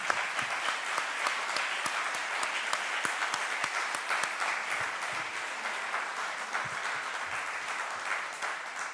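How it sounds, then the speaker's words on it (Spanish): Sustained audience applause follows a lecture in a full Madrid hall, a dense, even wash of many hands clapping for nearly nine seconds without a break. "Muchísimas gracias por los aplausos que me llenan de emoción"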